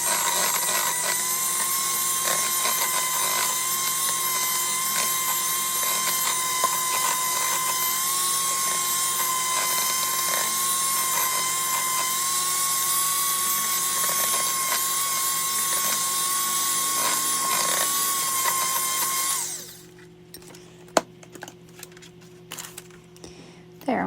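Electric mixer whirring steadily through Oreo cheesecake batter for about twenty seconds, a high continuous motor whine that stops abruptly, followed by quiet clinks and speech.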